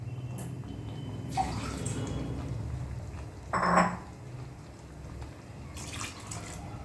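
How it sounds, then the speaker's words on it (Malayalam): Water is poured into a pot of Kerala-style mutton dal curry, heard as a short splashing burst in the middle, with faint clinks and drips before and after. "ഏകദേശം 2 ഗ്ലാസ്, ഏകദേശം ഒരു വലിയ കപ്പ് വെള്ളം ഞാൻ ഒഴിച്ച് കൊടുത്തിട്ടുണ്ട്"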